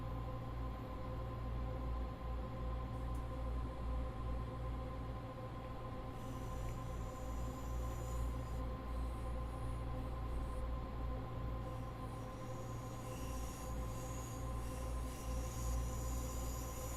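A train in Train Sim World 2 rumbles steadily on the rails, a continuous loud drone of wheels and engine with tonal hums and no talk.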